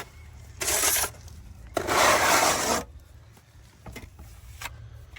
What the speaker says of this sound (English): he is actually wiping and cleaning away above the line that we cut